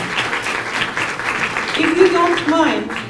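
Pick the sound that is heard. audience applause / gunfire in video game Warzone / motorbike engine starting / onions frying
audience applause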